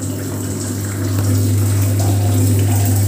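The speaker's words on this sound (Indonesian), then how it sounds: "Tuh airnya ngalirnya kencang banget tuh." Water rushes hard through the inlet valve of a Samsung washing machine, a steady loud gush over a low pump-like hum that strengthens about a second in.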